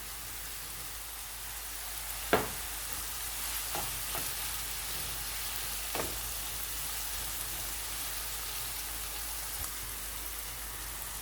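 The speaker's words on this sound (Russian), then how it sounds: "Обжариваю 1-2 минуты." Sausage and vegetables fry in a pan for a French-style omelette, a soft, steady sizzle with a few sharp clicks and spatters scattered through it.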